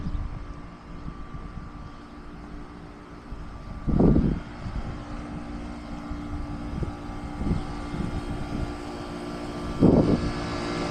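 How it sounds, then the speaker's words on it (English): A Bryant air conditioner with a Copeland reciprocating compressor runs outdoors on an office property, giving a steady low mechanical drone with a fan whoosh and two short, louder thumps. "that Bryant has one of the best Copeland recip sounds I've heard by far"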